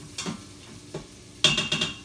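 Onion, garlic and meatballs sauteing in an Instant Pot, with soft sizzling and a few stirring scrapes, spaced out at first and then a louder clustered stir near the end.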